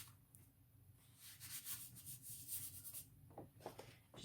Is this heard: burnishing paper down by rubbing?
yes